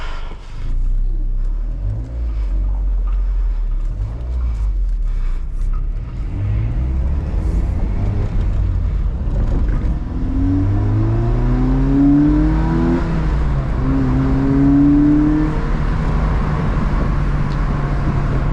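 A Mazda Miata engine revs and accelerates with rising pitch, loud and close, the drone sweeping upward through several gear pulls.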